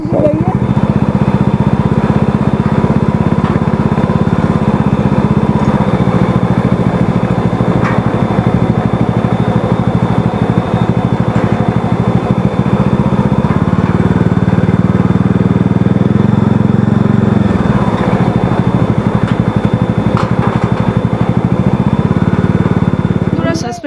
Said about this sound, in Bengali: দেখো কত হাইটের উপরে আমরা এই ব্রিজে বাইক নিয়ে যাচ্ছি